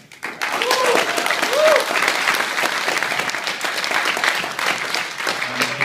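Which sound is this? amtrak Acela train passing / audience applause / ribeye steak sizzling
audience applause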